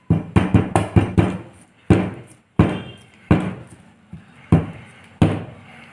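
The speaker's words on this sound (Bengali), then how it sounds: "ট্যাপ করে নেব যাতে হাওয়াটা বেরিয়ে যায়" A cake tin filled with eggless batter is rapped down on a hard surface again and again, a quick run of close, hollow thuds at first, then slower, evenly spaced knocks with no talking.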